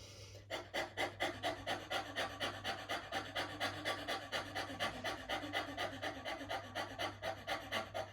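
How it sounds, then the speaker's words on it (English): Rapid, forceful mouth panting in Bhastrika yoga breathing, a steady run of about two quick breaths per second throughout, close and clear with a low hum underneath. "Pant as fast as you can, just like a dog."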